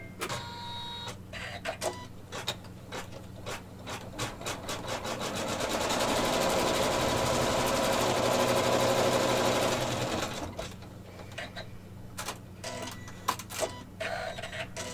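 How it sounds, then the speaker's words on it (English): An embroidery machine sews a placement stitch over appliqué fabric, a rapid mechanical needle chatter that swells into a sustained whirring run in the middle before breaking back into short bursts, close and clear. "Now I'm going to go back and I'm going to do that detailed, or that placement stitch again on top of this to hold down the fabric."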